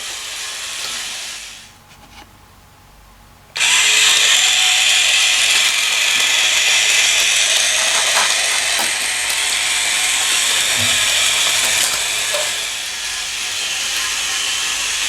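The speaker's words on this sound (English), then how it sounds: "So for now we just let the train drive forward." A toy Disney Parks monorail train motor whirs with a steady high buzzing hiss, briefly stopping early on and then running continuously again, close by, with no voices.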